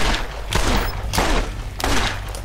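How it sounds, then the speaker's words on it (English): Rapid bursts of gunfire in the shooter video game Borderlands, three loud close volleys with brief gaps between them, fired from a short-range weapon amid a firefight. "Who the fuck is shooting me?"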